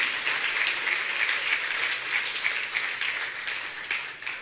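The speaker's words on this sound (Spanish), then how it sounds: "Si tiene ganas de darle un aplauso, dele un aplauso" A church congregation at a Sunday service applauds in a steady, moderately loud wash of many hands, sustained without a break.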